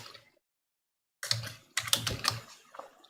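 Quick bursts of keystrokes on a computer keyboard while entering code, close and clear, with a brief pause between clusters of clicky taps.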